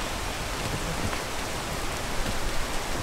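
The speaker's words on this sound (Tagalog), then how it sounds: "Umulan." Rain falls in the video game Peak, a dense, even hiss of downpour that stays steady and moderately loud throughout, with no voices.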